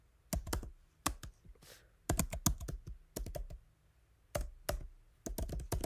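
Close computer keyboard typing of CSS code comes in quick clusters of sharp clicks separated by short pauses, with no talk over it.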